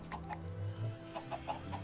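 Chickens cluck in short, repeated bursts in modded Minecraft (FTB), close and fairly soft, over a low steady background hum.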